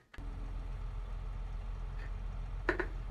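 Tractor engine in Farming Simulator 22 starts with a short crank and catches into a steady low idle rumble, with a couple of brief mechanical clunks near the end.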